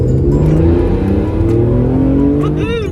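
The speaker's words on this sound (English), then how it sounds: "I recently bought the cheapest BMW Z4M Coupe in the UK." A 2006 BMW Z4M Coupe with over 100,000 miles runs its engine loudly and close, a steady rich drone with rising revs for about three seconds, while a voice talks over it.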